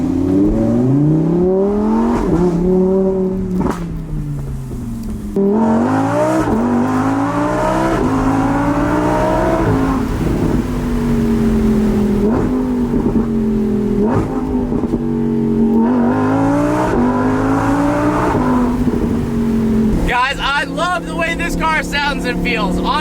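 A 2020 Lamborghini Huracan Evo with its V10 accelerating hard while racing a McLaren 600LT, the engine note rising again and again through gear changes, loud and close, with occasional talk underneath.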